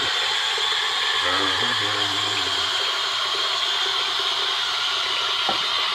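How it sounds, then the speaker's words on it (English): Water runs steadily into a bathroom sink, a broad continuous hiss and gush that stays close. A voice speaks briefly over it. "Run a little more water in the sink."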